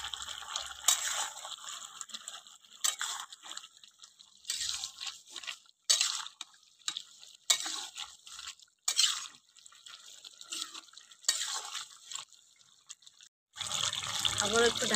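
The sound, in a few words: lentil fritters added and stirred into simmering pumpkin curry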